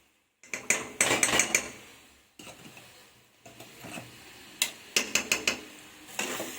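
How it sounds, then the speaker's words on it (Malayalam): A spoon stirring ghee into eggplant bharta in a metal pot, with sharp clinks and scraping strokes in irregular bursts, close and clear with no voices. "നെയ്യ് ചേർത്ത് നന്നായി മിക്സ് ചെയ്യാം"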